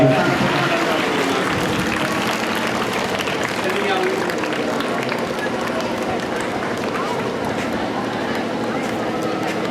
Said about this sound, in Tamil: மாணவர்களாக கைத்தட்டுறாங்க